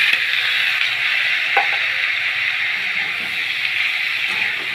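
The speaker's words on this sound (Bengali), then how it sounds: "এগুলো দিয়ে একটু ভাজতে থাকবে।" Thin-cut potatoes fry in hot oil for a small river-fish curry, a bright, even hiss and sizzle with occasional light clinks of stirring.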